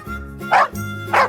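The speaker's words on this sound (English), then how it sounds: "It's a dog." A dog in a cartoon farm animal scene gives two short, close barks, spaced about half a second apart, over a soft musical background.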